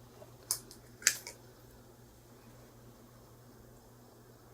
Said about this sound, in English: I'm gonna spray it on my skin.